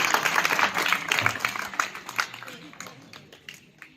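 An audience at a Marathi talk on lessons from Shivaji's life claps warmly for a guest who attended despite a fractured leg; the applause starts dense and loud, then gradually thins into scattered claps and fades out.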